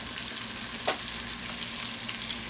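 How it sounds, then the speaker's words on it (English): Turkey burger frying in a pan with garlic salt and crushed red pepper, a steady broadband sizzle holding throughout, close and moderately loud, with a brief brighter crackle midway and no talking. "I fried my turkey burger with some garlic salt, crushed red pepper"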